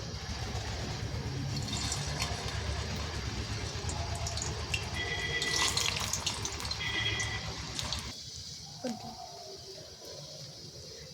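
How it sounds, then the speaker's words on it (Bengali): Semolina pitha cakes fry in hot oil with a steady, close hiss of bubbling. The sizzle thins and quiets near the end. "এবার আমি একটা একটা করে পিঠে তেলের মধ্যে"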